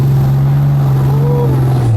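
Cummins diesel-swapped Ram TRX pickup truck engine while driving, a loud, steady low droning hum that holds evenly and drops slightly in pitch at the end.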